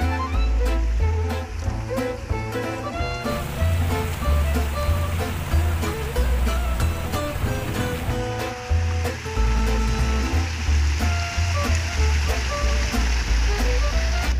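A garden waterfall and fountain pour continuously, a steady rushing splash of flowing water heard up close, mixed with other faint background sounds.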